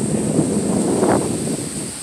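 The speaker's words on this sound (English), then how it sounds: "It's because it's windy." Steady wind at an oceanfront beach park buffets the microphone with a broad, rushing roar, constant and close, with slight gusty swells.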